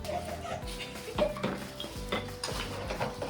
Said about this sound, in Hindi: और जिनी बर्तनों से खेल रही है।